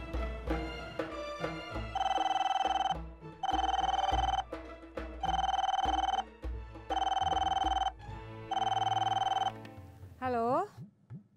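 Telephone ringing in an Indonesian drama scene: five loud, evenly spaced electronic ring bursts, each about a second long with brief gaps, with voices talking and soft background music between them.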